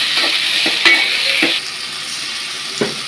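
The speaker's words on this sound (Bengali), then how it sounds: "এখন টমেটো দিলাম এগুলো একটু বাইজে নিতে হবে টমেটো দিলে" Tomatoes fry with a steady, loud sizzle in a pan in a fish curry with cauliflower, with several soft stirring scrapes as a spoon moves them around.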